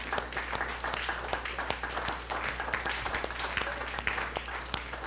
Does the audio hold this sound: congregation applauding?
yes